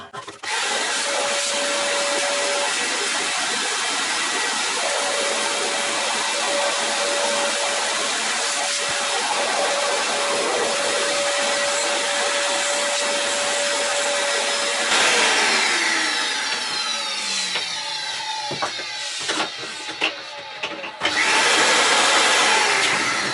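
Shop vacuum sucking up sapele sawdust in a woodworking workshop, a steady loud whine running continuously, with a shift in pitch and tone partway through as the nozzle moves over the debris; no talk.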